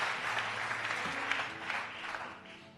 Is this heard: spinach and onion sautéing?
no